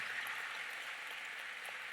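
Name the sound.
audience applause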